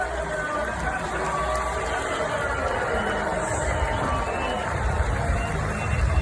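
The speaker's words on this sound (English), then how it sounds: "They are booing this guy" An Olympic beach volleyball crowd at the Paris 2024 Games jeers Dutch player Steven van de Velde, a dense, continuous roar of booing and crowd noise that holds steady throughout.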